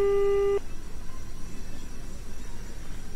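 Telephone busy signal after an unanswered call, heard as repeating beep tones over about half a second, followed by faint hiss and low background rumble.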